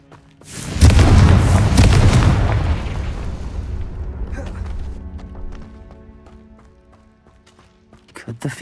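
A Confringo blasting spell detonates in the Hogwarts Legacy video game, a single heavy booming explosion that rumbles and slowly fades, followed by scattered small clinks and clatter.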